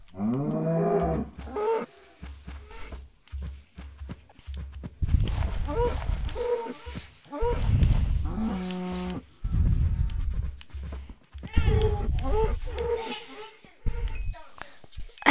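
A cow in the Minecraft video game moos several times, loud and close, with low game sounds between the calls while someone talks over it.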